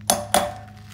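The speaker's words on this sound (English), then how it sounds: "And that's the sound of the bearing bottoming out." A wheel bearing bottoming out in the rear hub of a Hawk 250 as it is tapped in: two sharp, ringing metallic taps in quick succession, each with a brief decaying ring over a low background hum.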